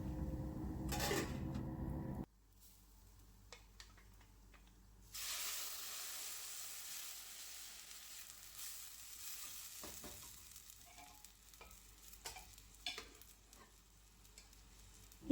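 Ground paste gets stirred into pumpkin curry in a pan: a loud sizzle at first, a brief lull, then a renewed hiss with scattered scraping and spoon knocks, close by and without speech.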